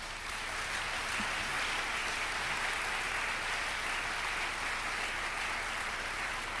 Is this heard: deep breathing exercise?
no